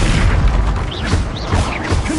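Fiery Confringo spell blasts in Hogwarts Legacy, a dense run of heavy booming explosions with crackling bursts, loud and close, repeating every half second or so over a constant rumble.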